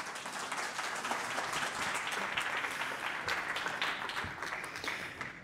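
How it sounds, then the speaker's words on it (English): Audience at a Dubrovnik Forum 2022 panel session applauds the panelists, a dense, steady wash of many hands clapping at moderate volume throughout, with no speech over it. "I invite you to award them with a big round of applause"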